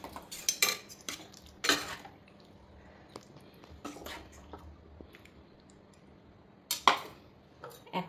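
Food for a Bhaiphota special dinner, paneer chana masala among it, is served onto plates and bowls at home; cutlery and dishes clink in scattered bursts between quiet scraping, close by and with no voices.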